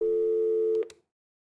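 A phone ringing tone in the video game Piper's Pet Cafe plays as a single steady electronic tone that stops abruptly after under a second.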